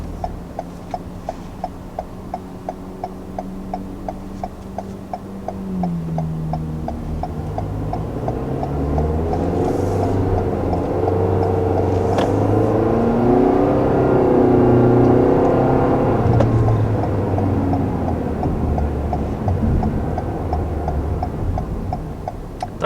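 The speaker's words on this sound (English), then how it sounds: "we'll also go ahead and try out the sport mode, see if that makes any difference taking off from this light" A 2020 Toyota Corolla in sport mode pulls away from a traffic light. A steady dashboard ticking runs through the start, then the engine note climbs and swells with rising revs, loud and close, with no talk.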